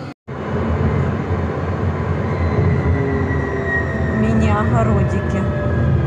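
A tram pulls into a street stop in Switzerland, a loud, steady rolling rumble lasting several seconds, with thin metallic wheel squeals rising near the end as it slows.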